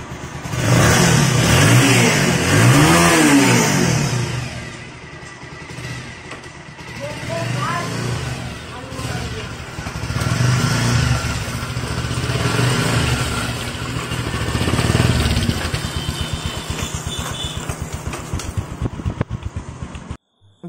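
A Bajaj Pulsar 180 motorcycle engine, just fitted with new clutch plates, is revved up close in repeated rising and falling bursts, settling into an uneven idle before cutting off at the end.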